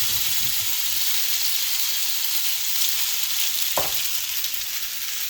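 Oily spaghetti goes into a preheated pan and fries with a loud, steady sizzle and hiss that holds evenly throughout, with one brief clatter near the end.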